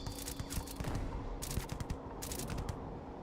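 Sustained gunfire from the video game Starfield forms a dense, loud barrage with brief sharper bursts standing out over a constant roar of shots.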